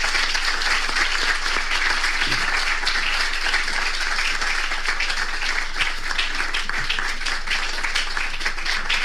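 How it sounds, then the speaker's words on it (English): A lecture audience at Harvard University applauds steadily, a dense wash of many hands clapping at once that holds for the whole stretch without a break. "Can we make that round of applause more?"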